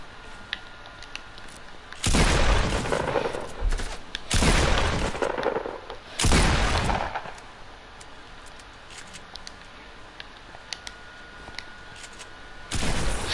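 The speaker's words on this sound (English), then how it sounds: "Where are you shooting from?" Gunfire in a shooter video game comes in three loud, sustained bursts of rapid shots separated by short lulls, with another burst beginning at the very end.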